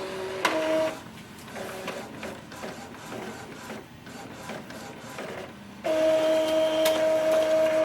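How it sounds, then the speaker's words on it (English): An Epson ET-2720 inkjet printer prints a nozzle check page, with whirring carriage passes, clicks and feed motor tones starting and stopping in bursts before a sustained mechanical hum, close by and moderately quiet. "So it's going to print a page that will confirm if our nozzle is still clogged or not."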